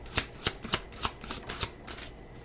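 Tarot cards being shuffled by hand give a quick series of about eight crisp, papery riffles in an even rhythm, close and clear with nothing else heard.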